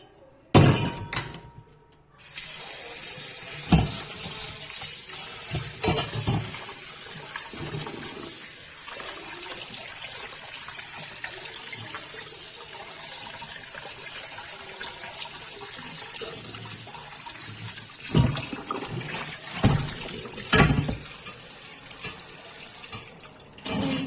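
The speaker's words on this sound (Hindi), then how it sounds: "ठंडे पानी में धो देंगे।" Mutton liver rinsed in cold water in a home kitchen, with steady running water from a tap and sink splashing that carries on for most of the stretch, broken by a few sharper clinks and a brief quiet at the start.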